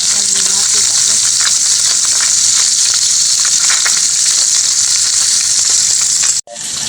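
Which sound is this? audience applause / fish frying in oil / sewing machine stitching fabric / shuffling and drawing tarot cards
fish frying in oil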